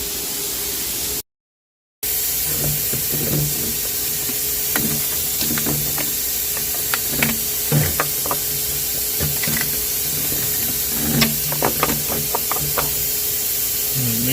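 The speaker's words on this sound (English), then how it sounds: "That wand goes inside, you walk it around, get it all clean while you attach this to your shop vac" Walnut-shell media is blasted through a wand into the intake ports of a BMW 135i's N54 engine while a shop vac draws the media out. The result is a loud, continuous hiss, dotted with faint ticks and rattles, cut by one brief pause.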